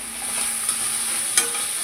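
Food frying in a home kitchen pan gives a steady, close hiss that runs throughout, with a couple of brief louder crackles and no talking.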